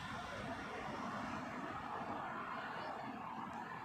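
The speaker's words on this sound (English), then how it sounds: "The Virgin A350 1000 being beautifully lit up by the evening sunshine." Steady broadband roar of a Virgin Atlantic Airbus A350-1000 at Heathrow, a continuous jet engine rumble at moderate distance with no voices over it.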